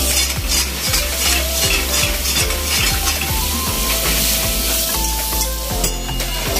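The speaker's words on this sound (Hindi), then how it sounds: "मैं थोड़ी सी ग्रीन चिली और जिंजर गार्लिक पेस्ट ऐड कर लूँगा, और इसको थोड़ा सा फिर से सोते करेंगे ताकि ये ब्राउन हो जाए" Onions, green chili and ginger garlic paste sauté in a pan for Old Delhi butter chicken: a steady, loud sizzle with a rapid rhythm of spoon scrapes and stirring clatter against the pan, with no talk.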